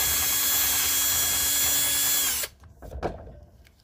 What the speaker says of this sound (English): And then drill the angle.